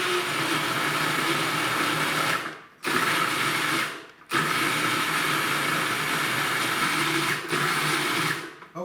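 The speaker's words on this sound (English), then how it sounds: "We're going to take an onion and some garlic. We're going to run it through the food processor." An electric food processor runs loud and steady, chopping onion and garlic in three long bursts separated by brief pauses.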